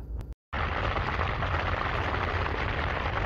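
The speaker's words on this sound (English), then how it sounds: "overnight it did start to rain" Steady rain drums on a tarp tent overnight, a dense, even hiss close by with no talking after a brief gap at the start.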